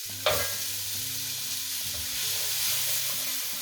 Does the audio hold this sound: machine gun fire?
no